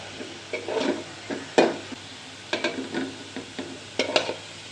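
Onion and garlic browning in oil for a masoor dal tempering give a soft low sizzle, broken by repeated spatula scrapes and stirs against the pan, close and fairly quiet.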